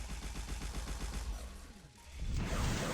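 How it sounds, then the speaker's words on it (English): Mine explosion followed by a short stun effect in a prototype video game with a crab tank boss: rapid rattling bursts, then a swelling burst of noise at the end. "So mine explosion, and then you have this little stun sound effect."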